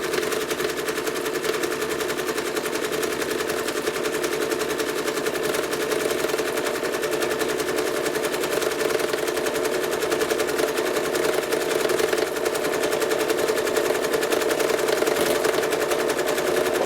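Sewing machine quilting fabric along a chalk line, a steady, continuous fast mechanical stitching hum that runs unbroken and fairly loud throughout, with no pauses or starts and stops.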